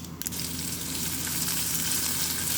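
Onions tossed into hot oil with popping mustard and fennel seeds burst into a loud, continuous sizzle right up close, a brief clatter at the start and then a steady hiss with no talking.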